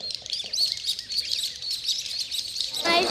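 Tiny bird imitation tweeters blown by children in an audience, a dense flock of high chirps and twitters layered together throughout, fairly loud and continuous, with a brighter trill near the end.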